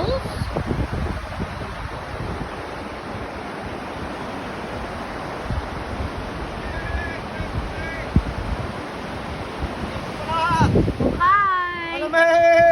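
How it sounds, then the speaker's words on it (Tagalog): The Takakkaw Falls waterfall makes a steady, broad roar close by, mixed with wind buffeting the microphone, and voices talk briefly near the end. "Here we go. This is the falls."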